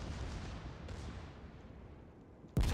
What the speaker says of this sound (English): my secondaries are shooting on the Hippa really well